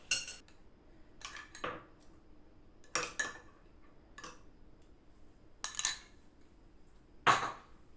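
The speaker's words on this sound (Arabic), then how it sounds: "هنقلب المكونات دي كلها مع بعضها كده، هنقلبها كده مع بعضها" Chicken marinade ingredients are stirred together in a bowl, giving a handful of separate spoon-on-bowl clinks and scrapes spaced a second or so apart, close and fairly quiet, with no talking.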